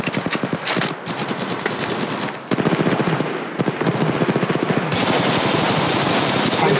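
Automatic rifle fire in the mobile battle-royale shooter Apex Legends Mobile, rapid loud bursts of gunshots with brief pauses between volleys, close and dominant throughout.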